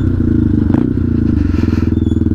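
A Benelli TNT 125 motorcycle engine runs close and loud with a rapid, even pulsing throb, ending in distinct rhythmic beats; no talking.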